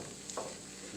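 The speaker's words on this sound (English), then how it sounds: "I'm gonna give them a good mixing, good stirring" Home fries are stirred in a pan, one brief scrape of the spatula over a faint, steady frying hiss.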